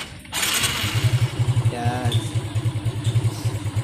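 A stock-piped Honda Smash 115 motorcycle engine runs close by with a steady, rhythmic low-pitched pulsing, loud throughout, while a voice speaks briefly over it.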